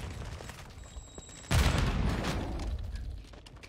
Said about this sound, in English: Tossing sticky grenades.